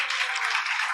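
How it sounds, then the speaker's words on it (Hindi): A church congregation claps together in one dense, brief burst of applause, steady and close, with no talking. "जोर से एक बार ताली बजा दो।"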